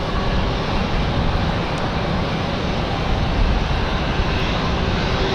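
A Delta jet airliner comes in to land at Raleigh-Durham International on a windy day, its engines producing a loud, steady, unbroken roar that persists for the whole stretch.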